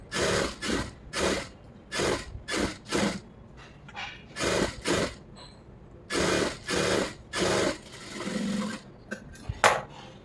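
Sewing machine stitching a lining blouse, heard as a series of short, evenly spaced whirring bursts separated by quiet pauses, close and clear with no talking.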